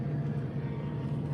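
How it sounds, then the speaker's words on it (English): A drone flying just outside an ice fishing shack on the frozen Fox River, heard as a steady low motor hum that holds level throughout without fading. "Somebody's flying a drone."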